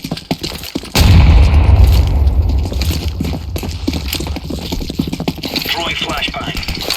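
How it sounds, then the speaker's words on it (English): A grenade explodes in the game Counter-Strike 2 with a loud, sudden boom about a second in, followed by a dense rumbling roar and scattered crackling gunfire-like sounds. "Throwing a grenade."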